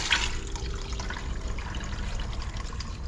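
Antifreeze coolant, mixed heavy on water, drains from a 1951 Farmall M tractor in a continuous trickling, splashing stream, close and moderately loud, with no talk.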